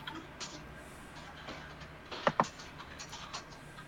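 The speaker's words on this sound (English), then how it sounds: "I can hear him typing." Keyboard typing comes faintly through an online call, a scatter of light key taps with a couple of sharper clicks near the middle, under a low background hiss and no speech.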